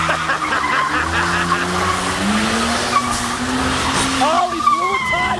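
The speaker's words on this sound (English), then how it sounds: "Oh, he blew a tire" A Toyota Avalon being driven hard by a stuntman blows a tire and skids, with a long loud tire squeal and engine roar sweeping over several seconds, while someone talks excitedly over it.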